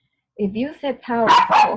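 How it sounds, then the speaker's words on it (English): A pet dog barks and yips a few times in quick succession indoors, the short sharp barks close to the microphone and overlapping a person talking. "excuse my dog"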